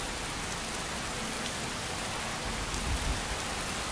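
Steady, dense modded rain falling in Skyrim, a continuous broadband hiss with a soft low rumble swelling briefly near the end, loud and enveloping with no voices.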